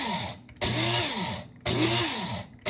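An electric grinder pulses a homemade spice blend for chili in short whirring bursts, three starts in quick succession, each cutting off abruptly. It is close and alone.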